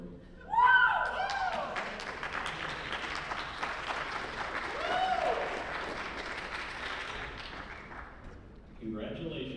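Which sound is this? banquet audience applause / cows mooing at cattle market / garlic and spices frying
banquet audience applause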